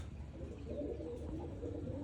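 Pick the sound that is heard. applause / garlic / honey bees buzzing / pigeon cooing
pigeon cooing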